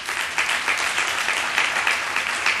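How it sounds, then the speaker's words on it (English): A room full of people at a county fund update meeting applauds Mel Franklin, a loud, dense, steady roar of clapping with no speech over it. "Mel Franklin, can we give him a round of applause?"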